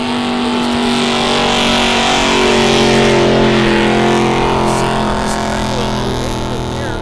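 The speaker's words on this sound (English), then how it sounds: "Old Ugly, the 83 GMC, walks it out to about 50 feet before he rolled into the throttle" A 1983 GMC drag truck nicknamed Old Ugly roars at full throttle down a drag strip at a truck fest, a loud, sustained engine blare that swells and holds steady, with faint voices underneath.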